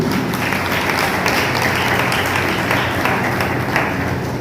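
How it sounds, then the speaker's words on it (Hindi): Steady, dense applause from an audience at a Jain religious ceremony marking a Digambar acharya's 42nd chaturmas, with many hands clapping continuously and evenly throughout. "हमने हमारे लिए ताली बजा करके क्या वाहवाही कर दी"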